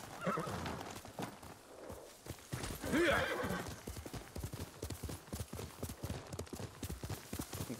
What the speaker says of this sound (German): Guck mal, das Pferdchen.